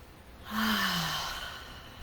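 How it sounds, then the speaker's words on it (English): A single drawn-out human yawn rises and then slowly trails off into a long breathy exhale, close and alone with no talking. "This is called a yawn."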